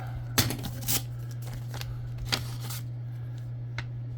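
A mail package is cut open with a few quiet, scattered snips and crinkles over a low, constant electrical hum. The sounds are faint and close, with short pauses between each cut.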